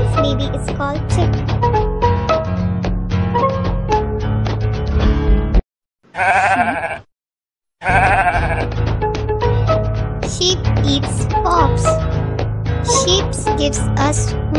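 Sheep bleat repeatedly and loudly at close range, the cries overlapping with farm noise, broken by a short quiet gap in the middle.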